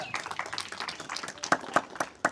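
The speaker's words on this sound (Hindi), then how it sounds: "यीशु के नाम में ताली लगा दो जोर से" A church congregation claps loudly during a service, with scattered hand claps building into a burst of sharp, irregular claps nearby.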